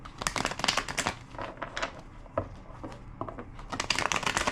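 Cards being shuffled in quick riffling bursts, crisp and close, with a short pause between rounds.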